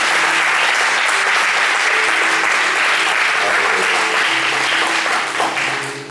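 A congregation at a seminar applauds the Lord: loud, dense, sustained applause that fills the whole stretch and fades slightly at the end, with some voices mixed in.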